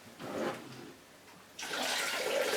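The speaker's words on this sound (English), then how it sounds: "We need some more water to rinse the rice." Kitchen tap water runs and splashes to rinse rice, a short rush followed by a pause and then a louder, steady gush of flowing water, heard close with no talking.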